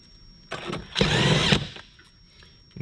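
A power drill drives screws while sound treatment is installed in a 2015-2022 Ford F-Series truck, with two close, loud whirring bursts, a short one and then a longer one, separated by a brief pause.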